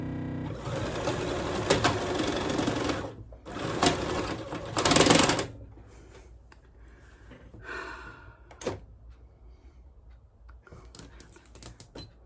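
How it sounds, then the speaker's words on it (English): A sewing machine runs in close, steady bursts as it stitches a light fabric piece onto another for a Valentine's Day table runner, stopping and restarting a few times before fainter handling noises. "put my light piece on top like this, and I'm just going to sew straight"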